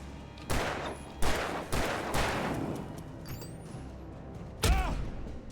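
Gunshots fired at an enemy in Alan Wake Remastered: several heavy, booming shots spaced about a second apart, then a final blast near the end, with reverberant tails and faint mechanical creaks between.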